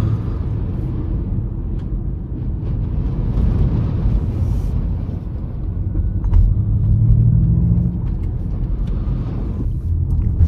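An electric sports car of over 300 hp accelerates hard, a loud close rumble with road and wind roar and a rising whine building midway, steady and continuous without speech.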